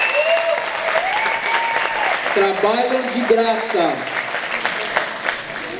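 Applause from the audience at a Saturday-morning youth camp gathering, a steady clapping bed running under someone speaking into a microphone.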